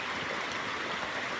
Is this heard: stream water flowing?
yes